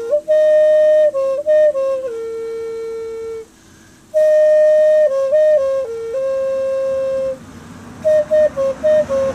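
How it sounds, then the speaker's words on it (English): A homemade Native American flute in a grandfather tune plays a breathy, wavering melody of sustained and ornamented notes in two phrases, with traffic passing steadily in the background. "That was from the grandfather tune flute with the backup of passing traffic."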